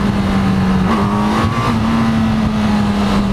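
A 2018 Honda CB1000R, a 998 cc liquid-cooled inline-four, accelerates hard as its front wheel lifts, its engine giving a loud, close, sustained drone with a brief pitch shift and heavy wind rush, with no talking.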